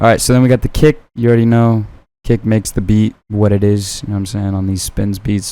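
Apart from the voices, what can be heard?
No everyday noises stand out.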